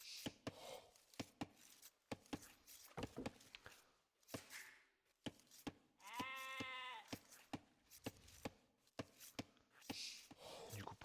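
Video game sheep bleat in short wavering calls, one long clear bleat standing out midway, among frequent sharp percussive clicks and taps from the game, with a voice talking quietly at times.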